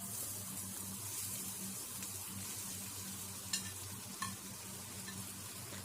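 Sliced onions fry in hot ghee for white mutton biryani, a steady, moderately loud hiss with a low hum underneath and two brief clinks near the end, no one speaking.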